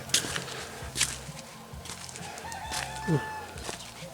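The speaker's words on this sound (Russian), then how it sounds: "Петухи поют, как всегда." Several roosters crow in turn, some near and some farther off, with clucking and rustling between the calls.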